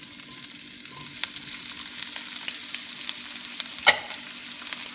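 Onions stir-frying in a wok, a soft continuous sizzle with occasional spatula scrapes and one sharp metallic clack near the end, no voices.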